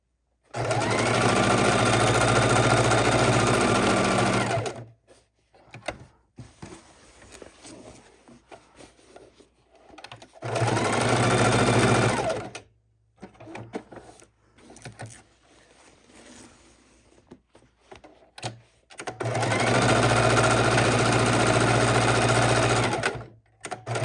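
A sewing machine stitches down an art roll in three long, steady runs of whirring, each lasting a few seconds, with quiet fabric handling and pauses in between.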